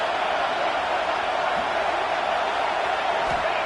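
A steady roar of a stadium crowd rolls on in a college football video game with Clemson against Florida, a dense, even wash of cheering held at one level with faint whoops rising now and then.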